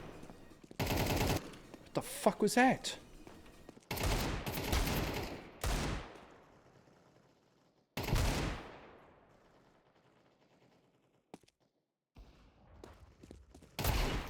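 Loud bursts of gunfire from a shooter video game, including Desert Eagle pistol shots, come in several separate volleys with quiet gaps between them, and someone talks and swears over the shooting.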